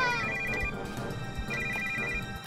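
A phone rings in a horror video game, two bursts of a trilling electronic ringtone with steady rhythm, moderately loud over a low rumbling game background.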